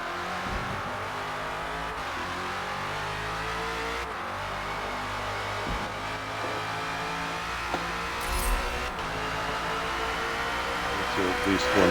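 The #17 Ford Falcon FG X race car in Forza Motorsport laps Yas Marina, its engine droning steadily and loud throughout, with pitch rising and falling through gear changes.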